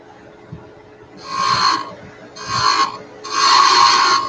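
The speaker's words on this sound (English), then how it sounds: "Switch to my 1/2-inch spindle gouge." Wood turning on a lathe with a 1/2-inch spindle gouge, three bursts of close, loud rasping cuts against the spinning wood, each longer than the last, separated by brief pauses.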